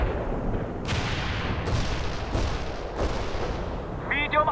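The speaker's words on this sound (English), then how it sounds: "Artillery! Artillery here!" Artillery fire in the World in Conflict video game: four sharp, loud blasts at roughly even intervals, each with a quick rumbling decay over steady battle noise, followed by a brief radio-like voice at the end.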